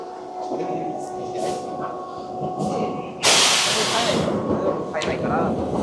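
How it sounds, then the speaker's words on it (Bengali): Tobu Urban Park Line local train pulling out of Omiya, heard from inside a crowded car: low rumble and clatter with a sudden loud burst of hissing air partway through, while people talk nearby. "ছেড়ে দিয়েছে আমাদের ট্রেন ওমিয়া থেকে কাসুকাবের উদ্দেশ্যে।"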